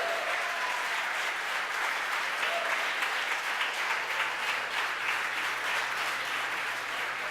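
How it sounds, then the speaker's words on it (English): Onlookers at a SpaceX Falcon Heavy launch carrying Arabsat 6A cheer and clap together: a dense, continuous wash of applause and crowd noise holding steady throughout. "As you can tell behind me, the folks who watched the mission cheering."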